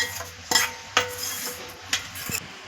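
Fried vermicelli is stirred into milk in a pot for payasam, with a spoon scraping and knocking against the pot in a rough, repeated rhythm of about five strokes over a soft bubbling background.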